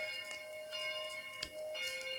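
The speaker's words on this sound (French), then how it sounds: "Voilà, c'est la cloche 9." A newly cast small church bell, number 9 of the new bells for Saint Sylvestre church and tuned to C4, rings with a sustained, shimmering metallic tone, struck several times at uneven intervals with no voices.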